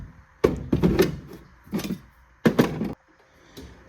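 Metal drawers of a mechanic's rolling toolbox slide and thunk shut in several sharp, close bursts with short pauses between, no talking.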